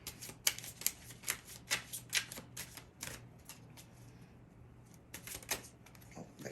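Tarot cards are shuffled by hand in quick bursts of crisp riffling and flicking, several sharp clusters of card snaps with a short quieter pause in the middle.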